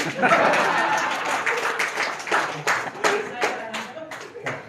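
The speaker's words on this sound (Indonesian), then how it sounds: "Tepuk tangan untuk Pak Teguh" An audience at a hypnosis training session claps, a burst of dense clapping that thins into scattered, uneven claps, close and fairly loud, with voices talking over and between them.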